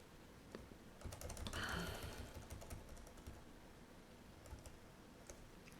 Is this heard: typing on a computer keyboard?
yes